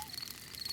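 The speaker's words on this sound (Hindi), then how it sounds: "ये कीड़ों की चींची आवाज है।" Insects chirping outdoors at night in a cartoon countryside, a faint steady high-pitched trill running on with soft rustling beneath and no voices.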